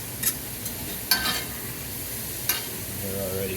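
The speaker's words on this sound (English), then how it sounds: "I'm gonna stir these onions around so they don't get brown on the bottom" Onions grilling in a pan being stirred, a few scraping strokes of a utensil over a constant soft sizzle, close and moderately loud.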